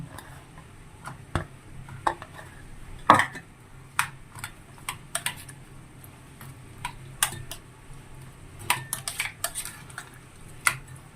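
Chillies being stirred into a dish in a bowl, with a string of sharp clinks and taps of utensil on the bowl scattered irregularly across a quiet background, close and fairly light, no talking.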